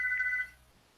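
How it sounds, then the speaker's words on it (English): A mobile phone ringtone sounds as one short, bright electronic tone burst that lasts about half a second, fairly close, then fades to quiet. "never mind, it's my phone ringing."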